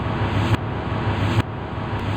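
Reversed sound effect from the video game Sprunki, a sustained broadband whooshing sweep with dense noise, repeating in short swells and abrupt cutoffs, loud and close with no talking.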